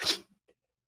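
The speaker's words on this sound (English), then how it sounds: "About to sneeze." One short, sharp sneeze bursts out close by, followed by a couple of faint small sounds and then silence.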